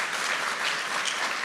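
Audience applause at an awards ceremony honoring an award recipient, a dense, steady wash of clapping heard up close throughout with no voices.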